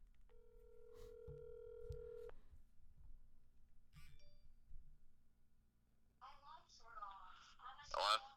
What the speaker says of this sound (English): Let's see if we can get Joel on the phone.